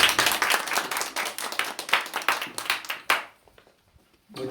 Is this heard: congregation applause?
yes